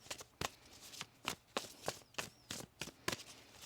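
A deck of tarot cards is shuffled in a quiet room, a series of quick riffling, flicking bursts repeating roughly twice a second, close by and soft, with no talk.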